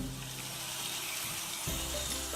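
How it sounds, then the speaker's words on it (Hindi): Beans, tomatoes and carrots fry in a pan for pasta, giving a steady broadband sizzle that holds throughout, with a faint shift partway as the food settles or is moved. "फिर इसे मैं 3 से 4 मिनट तक ऐसे फ्राई करूंगी"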